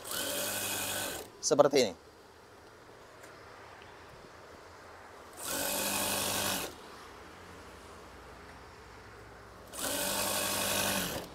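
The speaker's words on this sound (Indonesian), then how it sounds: "Jahit saja kira-kira satu jari atau 1 cm," A sewing machine stitches white curtain tie strings in three steady bursts of rapid mechanical whirring, each lasting one to two seconds, separated by quiet gaps, with a short rattle early on and a voice speaking briefly.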